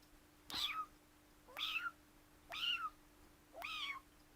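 A cat meows four times at an even pace, about a second apart, each call a clear, rising-then-falling cry with quiet pauses between.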